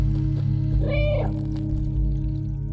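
A cat's meow in the Stray video game, one clear rising-and-falling cry about a second long, set over a constant droning ambient hum of the abandoned city.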